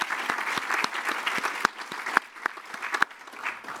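Audience applause at the Golden Globe Awards ceremony, with scattered sharp claps over a steady patter of moderate clapping lasting several seconds.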